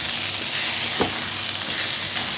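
Masala for street-style breakfast cholay frying in a pan over medium heat, a steady continuous sizzle with a brief stir scrape midway, close and alone.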